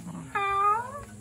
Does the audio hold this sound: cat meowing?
yes